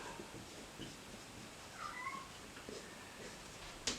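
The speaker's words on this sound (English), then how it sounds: "My cat's making a racket." A pet cat meows a few times at moderate volume in a quiet room, the calls brief and scattered over a low background hiss with no talking.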